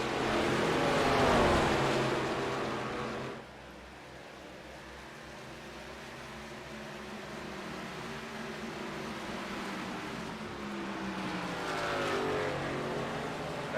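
ARCA race cars at Iowa, engines roaring past loudly at the start, then a quieter stretch of distant track noise before another car swells in near the end, no voices.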